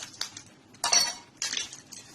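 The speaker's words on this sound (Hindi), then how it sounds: "इसमें आइस डालेंगे।" Ice cubes clink and rattle into a glass while a mango milkshake is prepared, two brief bursts of close clattering separated by quieter handling noise.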